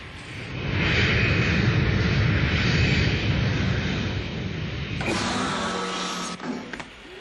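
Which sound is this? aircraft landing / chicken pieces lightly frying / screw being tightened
aircraft landing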